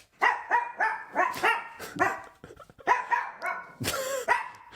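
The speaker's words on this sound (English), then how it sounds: "Hang on, my dog is going nuts here." Barking from a pet dog named Bodhi, a rapid run of sharp, loud, close barks in uneven bursts with short yips between them, sounding alone with no talk.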